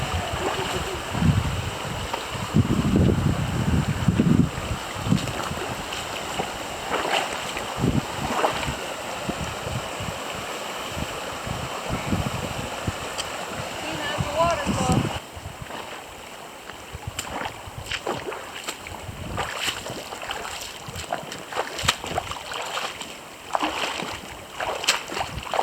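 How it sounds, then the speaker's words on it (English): A creek flows and splashes steadily on a canyon hike at a creek crossing, with wind buffeting the microphone and occasional footsteps and splashes through the water. "Creek crossing number 15."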